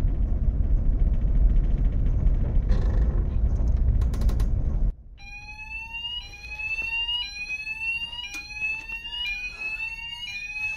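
Inert gas system alarm on a ship tested at its panel: a loud steady tone for about five seconds, then a series of repeating rising electronic warble sweeps sounding alone with faint mechanical clicks.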